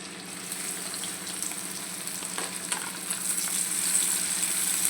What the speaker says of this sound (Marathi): आता आपण कांदा घालू.